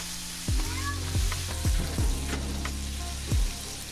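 Pork steaks sizzle steadily on a flat top griddle, a continuous close frying hiss broken by several short, low sliding sounds, with no talking.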